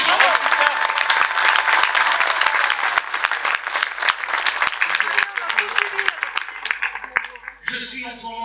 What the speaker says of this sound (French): Merci d'applaudir M. Christophe Campiglia